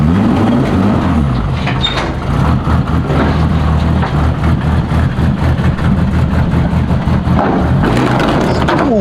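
A Nissan Altima engine fitted with C8 cams and an upgraded billet oil pump runs loud and close, with a choppy, lumpy idle that pulses steadily and rises briefly near the end.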